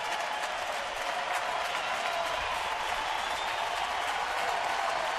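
A large baseball crowd in the stands at a New York Mets at Houston Astros game claps and cheers in a steady, dense roar that holds evenly from start to finish.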